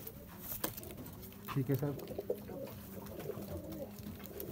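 Dub breed pigeon cooing in soft, low repeated pulses near the mic, mixed with handling noise and someone speaking briefly.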